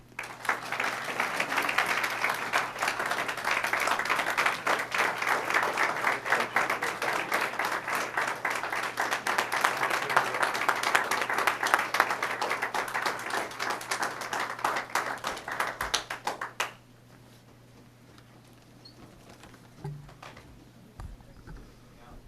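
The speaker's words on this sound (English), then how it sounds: "Let's give Mr. Trevena another round of applause, everybody." Sustained audience applause at an outdoor Memorial Day ceremony in Montclair, steady and dense for about sixteen seconds before stopping abruptly, leaving quiet ambience with a low steady hum.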